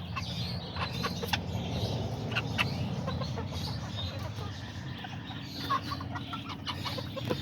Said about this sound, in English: All these little, even this little tiny chicken right here.